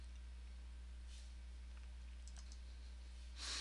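A single faint mouse click on an on-screen OK button comes near the end, following a quiet stretch with a couple of soft ticks in an otherwise still room.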